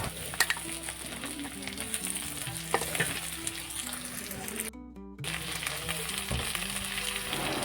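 Cut potatoes dropped into a pan of oil with onion and garlic fried until reddish, a dense continuous sizzle with stirring and scraping, close, under a speaking voice and a brief gap.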